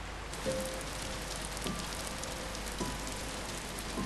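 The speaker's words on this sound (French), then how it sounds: "Ah, il pleut, oui." Rain falling in the video game Until Then, a steady dense hiss of drops on surfaces with a few faint tones and soft knocks underneath, continuous and without talk.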